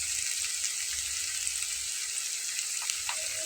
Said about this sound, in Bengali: কিন্তু তেলেই ভাজা ভাজা হচ্ছে।